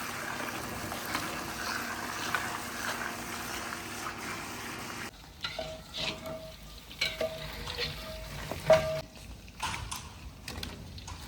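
Ghee frying in large cooking pots, a steady loud sizzle for the first half, then softer sizzling with scattered stirring clatter and clinks.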